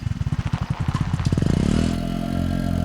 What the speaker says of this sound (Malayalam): അതാരും ഈ നേരത്ത് ബൈക്കിൽ?